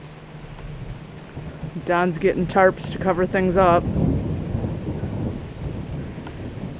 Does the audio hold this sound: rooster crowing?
no